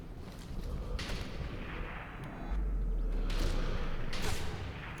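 Muffled gunshots and booming blasts in the video game Sniper Elite V2, in a steady, noisy background, with a few sharper bursts standing out.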